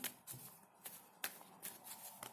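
Tarot cards being shuffled in several quick riffling bursts, crisp papery flutters close by with brief pauses between them.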